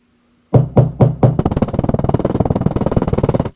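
A few firm taps, then a fast, steady run of light metallic tapping close by, a small hammer knocking down a high spot on a dented car panel.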